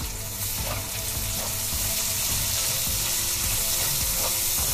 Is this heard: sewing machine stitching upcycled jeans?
no